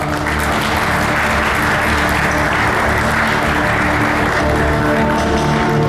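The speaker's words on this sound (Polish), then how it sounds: "Brawa!" Loud, sustained applause fills the hall at an awards gala for the bathroom industry, a dense steady wash of clapping from a large audience lasting throughout without a break.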